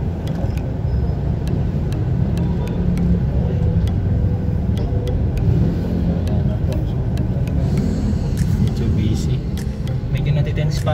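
A car cruises along a highway during a driving lesson, a continuous engine and road rumble heard from inside the cabin, with faint ticking clicks and voices talking over it.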